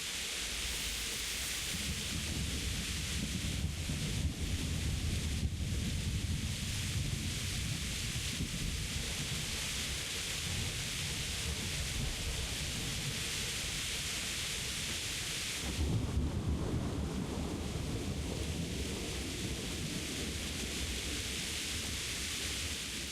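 Rolling thunder from a storm in the medieval video game Kingdom Come: Deliverance rumbles steadily under a dense wash of rain, with a brief dip and a fresh surge of rumble partway through.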